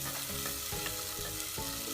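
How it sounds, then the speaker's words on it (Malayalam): Onions sauté in a pan for mutton curry, with a dense, close sizzle and crackle broken by a few soft stirring scrapes, and no voices. "ഉള്ളി നന്നായി വഴറ്റിയെടുക്കുക."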